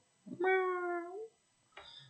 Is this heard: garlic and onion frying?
no